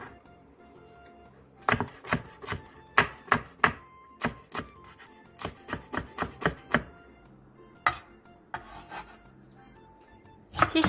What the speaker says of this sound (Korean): 양파 4분의 1개를 채 썰고 대파 2분의 1개와 청양고추 2개를